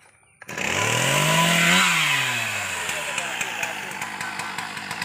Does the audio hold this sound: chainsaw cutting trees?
yes